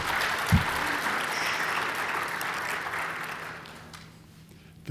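Steady applause from a crowd at a science journalism award ceremony fills the space, a dense patter of clapping that gradually thins and fades toward the end.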